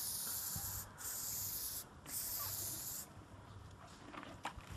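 Aerosol Plasti Dip coating sprayed onto a car roof, three close hissing bursts of about a second each with brief gaps, then quieter handling noise and a faint click at the end.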